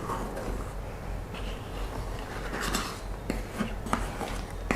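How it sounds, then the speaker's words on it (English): A utensil scrapes around the sides and bottom of a pot of choco fudge for boba, giving soft rasping strokes with a few sharper scrapes toward the end, fairly quiet and close. "Scrape the sides."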